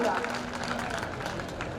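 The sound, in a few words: audience applauding a student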